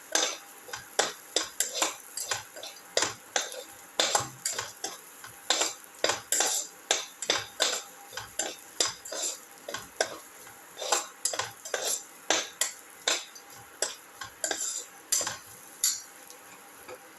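Ginger and potato being sautéed in a pan, with steady rhythmic taps and scrapes of a spatula against the pan repeating about twice a second throughout.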